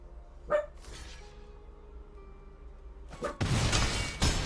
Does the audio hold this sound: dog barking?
yes